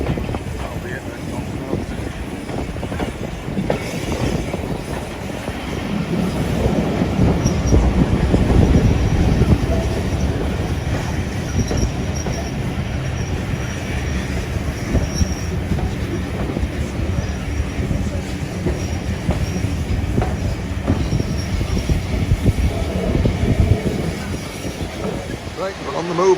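Steam train on the Keighley & Worth Valley Railway at a spring steam gala, heard from on board as a steady, loud rolling rumble with wind buffeting the microphone throughout.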